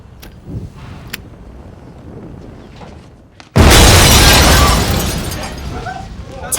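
A car explodes in a film scene, a sudden loud blast that bursts out after quieter ambience and then roars and crackles on, close and dense, with faint sounds before it.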